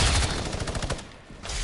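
A rapid burst of SMG fire rattles in the video game Fortnite, a quick string of loud, close shots in fast rhythm, briefly pausing before more firing resumes.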